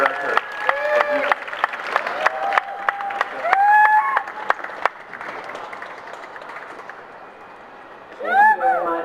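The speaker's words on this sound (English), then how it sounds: "Please keep your applause going for Lyz Soto." Audience applause at a spoken-word poetry event, scattered claps and cheering under a speaking voice, fading to a lighter patter before a final swell of voice.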